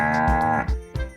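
Cattle low in a barn, one long loud moo followed by two shorter, deeper calls, close by and alone without talk.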